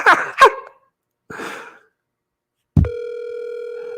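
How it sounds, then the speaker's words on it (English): Outgoing phone call on a handset, a steady ringback tone starting abruptly after a couple of breathy sighs, close and clear with no speech. "It's ringing."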